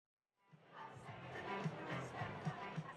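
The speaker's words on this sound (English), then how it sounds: "Former President Donald Trump packed a crowd into New York's famed Madison Square Garden Arena on Sunday" A large crowd packed into Madison Square Garden arena in New York for a Donald Trump rally, a distant steady roar of voices and cheering that swells in after a brief silence.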